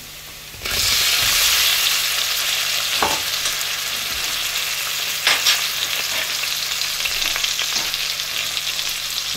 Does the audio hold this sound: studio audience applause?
no